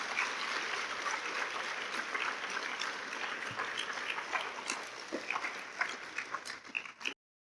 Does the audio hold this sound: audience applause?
yes